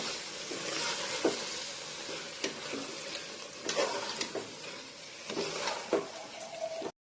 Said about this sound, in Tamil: நல்லா வதங்கினோன்னு நம்ம பிரட்டி ஊற வச்ச கறியை இது கூட சேர்த்திடலாம். நல்லா பிரட்டி விட்டுக்கலாம்.